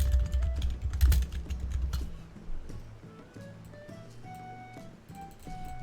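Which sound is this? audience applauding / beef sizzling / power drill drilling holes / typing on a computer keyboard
typing on a computer keyboard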